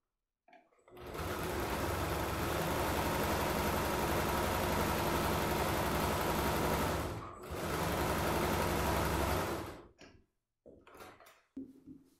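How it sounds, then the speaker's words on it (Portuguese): Sewing machine stitching a basic toiletry bag: a fast, steady mechanical whir runs for about six seconds, pauses briefly, resumes for another couple of seconds, then gives way to a few short handling clicks and rustles. "E vou passar uma costurinha aqui para rebater e outra aqui"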